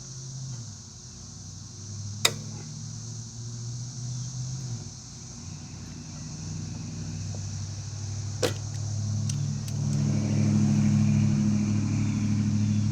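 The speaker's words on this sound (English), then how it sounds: "There's somebody flying by with landscaping in a black truck." A black landscaping truck passes on a nearby road, its engine building from a low rumble to a louder rushing drone as it nears, with a few sharp clicks partway through.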